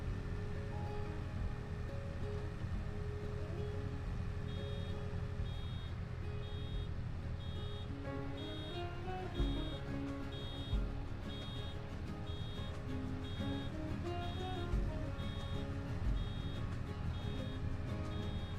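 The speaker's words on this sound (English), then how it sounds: "I'm sick of listening to the bloody incessant beeping." Reversing beeps from a baling machine in the Farming Simulator video game repeat steadily throughout, a high, regular pulse layered over continuous engine and machinery rumble.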